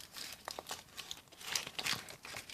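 Close, soft crinkling and tearing of a thin wrapper being opened on a Toto surprise egg toy, a quiet run of rustles and crackles without any talk.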